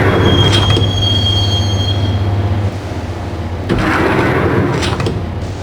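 Subway train in the Max Payne video game rolling along the tracks, a loud steady rumble with metallic wheel squeal, a brief dip midway, then the clatter swelling again.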